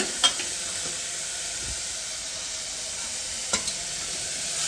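Fenugreek and spinach greens wilting in hot oil in a pan, a steady close sizzle with a couple of brief utensil scrapes, no talk.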